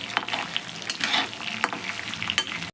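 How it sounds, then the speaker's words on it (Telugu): Chana dal and urad dal frying in hot oil while being stirred, a steady close sizzle broken by sharp scraping strokes of the spoon against the pan, for tamarind pulihora. "ఇలా పప్పు, శనగపప్పు, మినపప్పు వేసుకోవాలి. వేసుకొని ఒక్కసారి అలా కలియబెట్టాలి"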